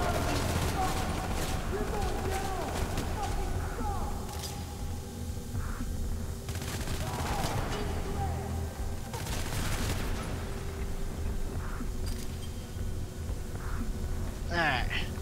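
Gunfire in the video game Hatred, scattered shots over a dense, loud game soundscape with continuous background noise and occasional sharper bursts.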